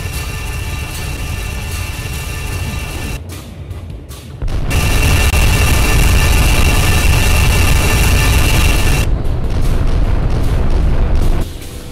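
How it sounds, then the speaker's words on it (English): Photon beam cannons firing and blowing up in a space combat video game, heavy booming blasts and rumbling explosions sustained throughout, loud and dense, with brief dips between volleys. "Targeting the Chiton with primary photon beam cannons"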